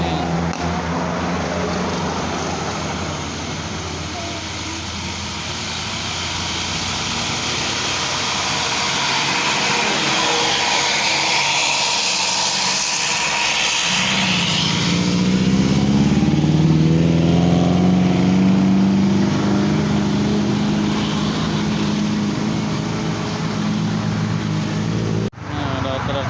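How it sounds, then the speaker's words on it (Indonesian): A heavy truck labors up the long, steep Cipeundeuy incline with a deep, steady engine drone that swells and holds loud and close, its low growl shifting pitch midway before a brief dropout near the end. "Truk lagi nanjak lagi nih."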